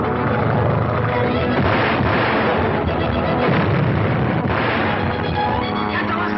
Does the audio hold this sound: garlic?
no